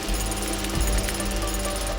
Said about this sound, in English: Drilling slow.